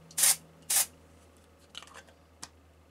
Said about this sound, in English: So what I'm just going to do is spray a bit into the air